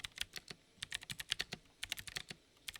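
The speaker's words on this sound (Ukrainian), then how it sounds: "Всі одинарні клавіші звучать чіткіше, довгі теж позбулись трясучки та паразитного тремтіння." Quick, crisp clicks of keys being typed on a Hator Rockfall 2 Mech mechanical keyboard in uneven bursts, close up with no voices.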